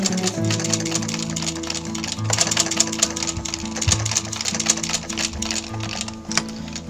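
A hand-cranked sewing machine stitches fabric with a fast, steady mechanical clatter of needle strokes over a low whirring drive, close and continuous with no talk.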